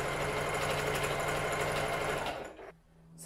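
A sewing machine stitching cushion covers runs in a steady, fast mechanical whir close by, then slows and stops near the end.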